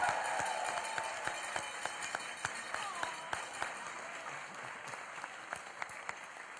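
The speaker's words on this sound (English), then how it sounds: "Please, round of applause." A crowd at a Kansas primary election event applauds, a dense and steady clapping that fades slightly toward the end, with distinct claps popping out of the wash.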